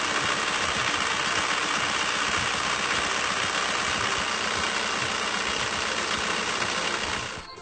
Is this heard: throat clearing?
no